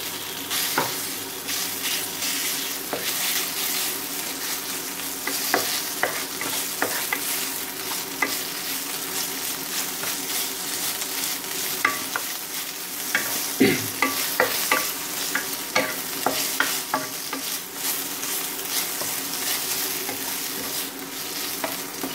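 Marinated pork stir-fries in a hot pan for a home-style instant noodle stir-fry, a loud steady sizzle broken by frequent scraping and clacking of a spatula.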